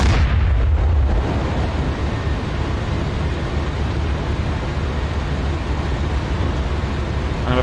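A main battle tank cannon fires in the DCS World combat simulator, a heavy boom at the start that rolls into a long, low rumble.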